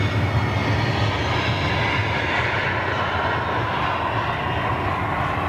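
Jet aircraft engines at Amsterdam Schiphol airport, a loud, steady, broadband roar that holds evenly from start to finish with no voices.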